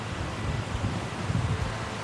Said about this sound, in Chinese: 这边就下大雨啦，这种风雨